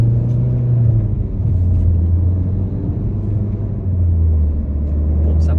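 A Citroën C4 Cactus 1.6 BlueHDi diesel with ETG6 gearbox accelerating gently through town, its low engine drone rising and dropping as it shifts gears, heard close from inside the car.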